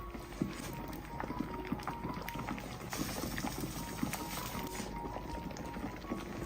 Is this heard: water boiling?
yes